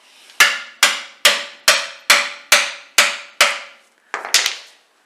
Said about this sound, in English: But give it another hammer in,